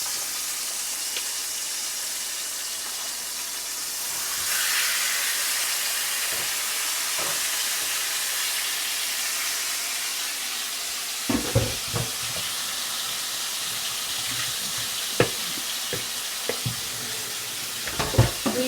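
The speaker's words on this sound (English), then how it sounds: "Wow, you see that sizzle right there? That sizzle was serious." Butter sizzling and hissing in a hot pan while cooking a crab boil, a steady loud fry with bursts of crackle and a few sharp clanks of utensils toward the end.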